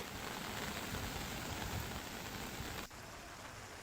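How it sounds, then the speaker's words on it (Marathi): Heavy monsoon rain in Thane district pours down in a dense, steady roar, then drops slightly in level near the end, with no voices. "इकडे ठाणे जिल्ह्यात सुद्धा मुसळधार पाऊस कोसळतोय"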